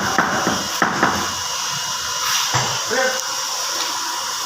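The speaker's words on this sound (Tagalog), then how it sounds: "Yan po ang tile setter na gumagamit ng martilyong bakal." A steel hammer taps tiles with sharp metallic strikes on a hard surface several times, irregularly spaced, over a steady hiss of background noise.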